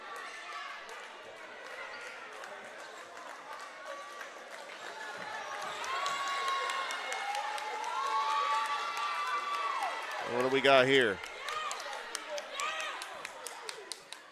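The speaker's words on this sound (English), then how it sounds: "They are cheering about something" A high school basketball crowd at Glenwood at Lanett roars and cheers in a gym, swelling in the middle and peaking near the end, with a commentator talking over it and sneaker squeaks and bounces throughout.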